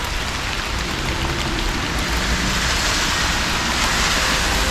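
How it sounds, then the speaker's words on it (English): Heavy rain pours down outdoors on a dark, stormy day in Maidenhead, a dense, continuous hiss of drops striking surfaces, loud and steady throughout with no voices. "as you can hear, the rain is really coming down."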